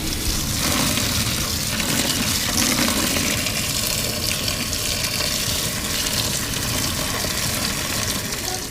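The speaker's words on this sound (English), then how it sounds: "turn the water on." Steady, broadband rush of water running from a tap, continuous and fairly loud throughout with no pauses.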